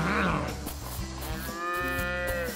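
A cartoon cow gives a long, loud, drawn-out moo close up, with a rhythmic music bed pulsing underneath.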